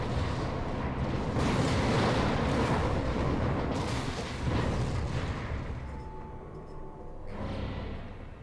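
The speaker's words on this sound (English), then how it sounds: "Basically, there's a mortar cannon." A mortar cannon firing in Final Fantasy XIV, a loud, sustained booming roar with rumbling blasts that stays heavy for several seconds, then eases into a quieter tail with a brief swell near the end.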